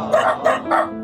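A dog barks three times in quick succession, close and fairly loud, outside a large house.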